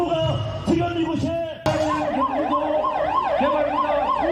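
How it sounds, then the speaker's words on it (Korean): An ambulance siren wails loudly and close by in a steady rising-and-falling cycle, cutting in abruptly after a brief stretch of other noise and voices and then carrying on without a break. "구급차 들어오죠."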